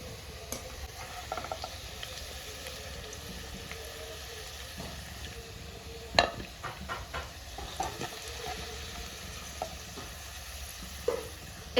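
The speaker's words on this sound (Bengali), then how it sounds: "মাছ ভাজার তেলেই আমি আলুগুলোকে ভেজে নেব।" Potatoes fry in oil left over from frying rui fish, giving a soft, steady sizzle with occasional sharper crackles and the clink of stirring, fairly quiet and with no talk.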